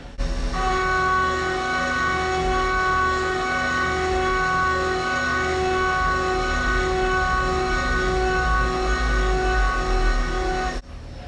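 A Haas VF1 CNC mill runs an adaptive clearing pass on a cylinder with the spindle at 7,500 RPM and a 235 inches-per-minute feed. It gives a steady, loud, high whine over a low machine rumble, then cuts off abruptly at the end.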